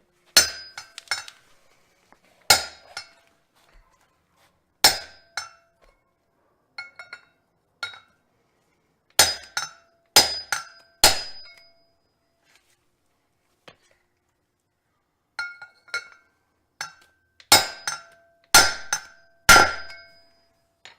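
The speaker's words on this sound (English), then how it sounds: "we're going to hammer all the races in" Sharp metallic hammer strikes ring out as bearing races are driven into the front brake hub of a 1973 VW Thing, in irregular bursts, some single and some in quick clusters, with quiet gaps between and no talking.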